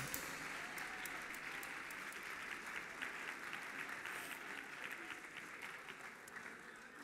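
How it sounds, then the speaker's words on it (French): An audience at a 2017 school gala applauds the winners, with sustained, dense clapping heard from a distance at fairly low volume and no talking over it. "Mesdames et messieurs, applaudissez nos gagnants!"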